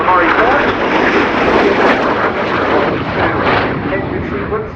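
A military jet performs a flying display at the RIAT 2019 air show, a loud, close, continuous roar that swells and rushes across the whole clip.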